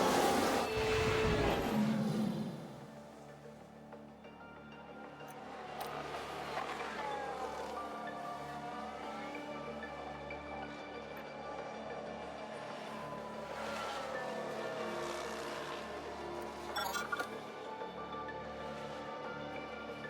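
Formula 1 race cars in the racing game F1 Manager 22, engines droning steadily with rising and falling pitch as cars pass, following a loud burst at the start; no talk.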